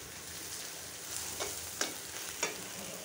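Singi fish eggs fry in a pan with a steady, close sizzle, broken by a few sharp spatters and stirring scrapes toward the end; no one speaks.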